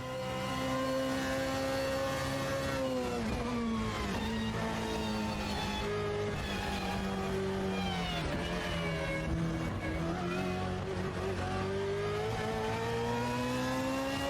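A race car engine screams through a lap of Le Mans in the Automobilista 2 racing game, sustained and loud, with the pitch rising under acceleration and dropping sharply at each gear shift.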